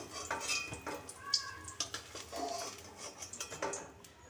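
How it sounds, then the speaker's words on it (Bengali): Fried eggplant slices are lifted out of a pan of hot oil with a metal utensil, giving quiet clinks and scrapes against the pan over a faint, low sizzle. "বেগুনগুলো আমি নামিয়ে নিচ্ছি।"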